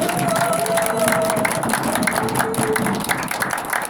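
An audience at a lecture breaks into lively, sustained clapping, with crisp claps packed closely together throughout and a few voices mingled into the applause.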